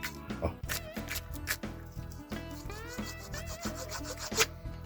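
A worn bearing on a Jawa 20 motorcycle shaft makes a harsh, uneven grinding rasp that repeats in rough cycles as it turns, with scraping metallic squeals rising over it, close and fairly loud.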